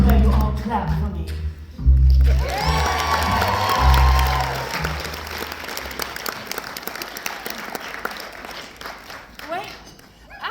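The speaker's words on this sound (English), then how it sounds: "this is where you all clap for me" A crowd at a cirque stage show claps and cheers, the applause swelling after a few loud thumps and a voice, then thinning into scattered claps that fade out.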